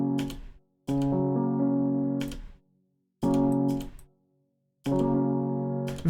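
FL Studio's Strum effect played on a synth chord, four strummed chord hits in a steady rhythm, each with a bright attack, a sustained harmonic body and a clean cutoff into silence, with no talking.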